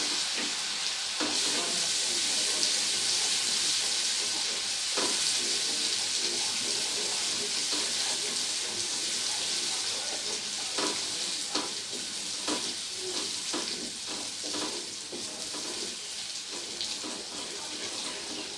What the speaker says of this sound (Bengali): রসুন বাটাটাকে খুব ভালো করে তেলের সাথে কিছুক্ষণ নেড়ে চেড়ে ভেজে নেব